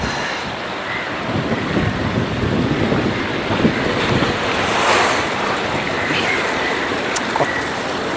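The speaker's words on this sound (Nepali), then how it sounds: "कति राम्रो हावा लागिरहेको छ यार" Night wind gusts across the Danga Bay waterfront in Johor Bahru, a steady broadband rush with rumbling microphone buffeting and a faint wash of water, continuous and close with no talking.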